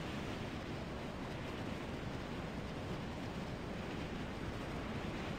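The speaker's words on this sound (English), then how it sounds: "we can go over a waterfall" A steady, roaring rush of water as a player goes over a waterfall in the video game Far Cry 3, a dense, unbroken wash of noise filling the whole moment without speech.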